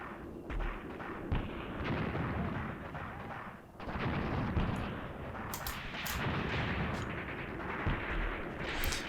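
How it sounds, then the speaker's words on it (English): Mortar and artillery fire in the WWII tank game Tank Warfare: Tunisia 1943 at Longstop Hill, with repeated booming shots and bursts spread irregularly over the clip under a constant battle din. "Right, what is our mortar shooting at?"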